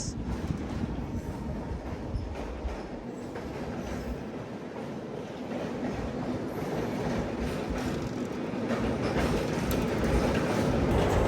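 From aboard the Nellore to Vijayawada MEMU Express, train 17259, a steady rolling rumble with wheel clatter and occasional squeal fills the carriage as it crosses the Penna River bridge, gradually swelling louder.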